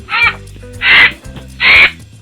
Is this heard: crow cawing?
yes